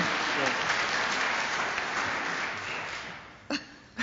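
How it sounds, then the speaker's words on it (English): A concert audience claps in a sustained burst that gradually thins and fades, followed by a couple of short sharp sounds near the end. "Go ahead and have that clap there before you."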